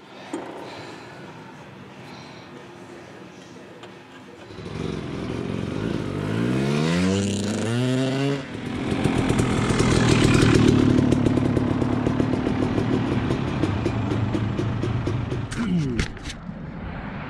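Motorcycle engine running after a gasket rebuild, starting up and revving with a steady loud rumble that rises in pitch, then settling into a rough, throbbing idle close by.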